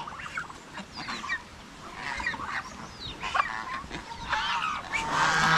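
Barnyard fowl calling nearby, with honking and squawking calls from ducks and turkeys over a steady outdoor background.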